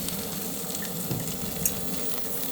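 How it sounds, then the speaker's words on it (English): Salmon fillet searing skin side down in butter in a skillet, a steady close crackling sizzle with soft popping throughout. "I'm going to put it skin side down in the skillet"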